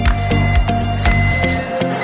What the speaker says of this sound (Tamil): கூடவே உங்களுக்கு ஒரு அலாரம் சத்தமும் கேட்கும்.